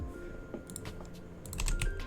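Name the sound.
typing on a link typewriter in Minecraft Create Aeronautics video game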